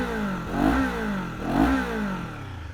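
A 2023 Kawasaki Z400 motorcycle engine revs up twice in quick succession, each throttle blip rising and falling close by over a steady idle, with no talking.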